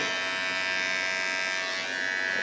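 An electric shaver, switched on by an aquarium pump protection controller, buzzes with a steady high-pitched whine, close and constant throughout, the pitch shifting slightly near the end, with no voices.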